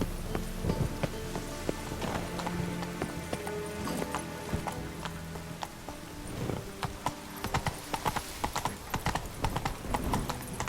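Hooves clop in a steady walking rhythm as Roach, the horse in The Witcher 3: Wild Hunt, moves at close range. Rain patters softly in the background and no one talks.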